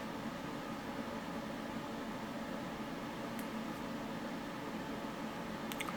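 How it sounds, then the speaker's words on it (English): Continuous broadband whooshing hum of a computer case fan, steady and unchanging at moderate level throughout. "Sorry about the computer fan noise"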